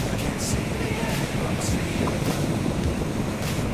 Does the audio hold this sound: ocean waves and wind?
yes